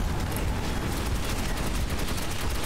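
Rapid gunfire in the video game Metro 2033, dense bursts of shots with no clear pauses, moderately loud and sustained for the whole stretch.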